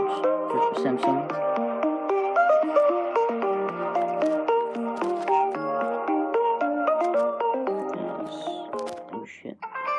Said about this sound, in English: Some pretty new ringtones for Samsung.